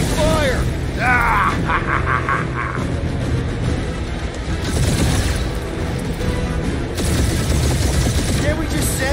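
Gunfire and explosions in the Marvel's Guardians of the Galaxy space battle, a dense, loud barrage of shots and booms throughout, with characters shouting over the noise.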